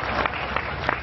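Audience applause at a Hindi poetry recital, a short burst of crowd clapping with a few sharper claps standing out, heard close and fairly loud.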